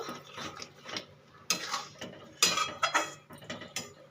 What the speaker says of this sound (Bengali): এই এবার আমি নেড়ে নেব